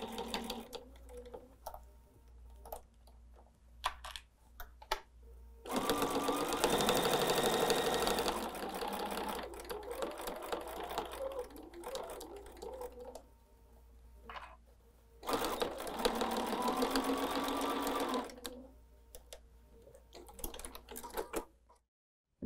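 A sewing machine stitches a fabric tote bag in two long steady bursts of rapid whirring, separated by quieter handling sounds and pauses.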